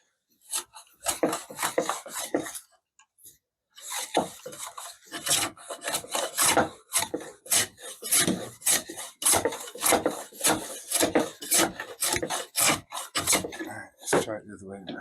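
Wood held in a vice being sanded by hand against the grain, loud close rasping strokes in a quick steady back-and-forth rhythm after a brief pause near the start.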